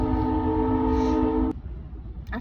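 A train horn sounds a loud, steady multi-tone blast near the tracks for about a second and a half, then cuts off, leaving rumbling rail noise and a brief metallic clank at the end.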